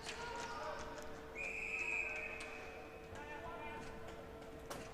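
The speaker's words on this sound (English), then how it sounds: "Our first whistle of the game" A referee's whistle blows in a sustained tone during a Finland versus France ball hockey game at the World Championships in Pardubice, sounding over arena crowd noise and a commentator's voice.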